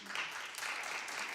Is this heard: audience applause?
yes